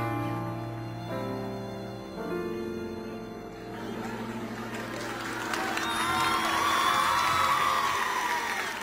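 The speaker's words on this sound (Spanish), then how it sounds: "el aplauso del Teatro Teletón para este gran artista nacional" A theatre audience at the Teletón breaks into cheering and applause for a singer, rising out of fading sustained music into a loud, dense swell of clapping and whoops.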